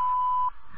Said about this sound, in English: Record greeting after the beep.